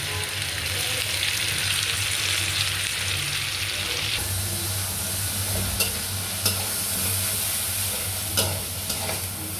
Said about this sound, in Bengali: সুন্দর করে রসুন বাটাটা ভাইজে নিলাম।